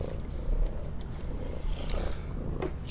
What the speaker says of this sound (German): und die Katze schnurrt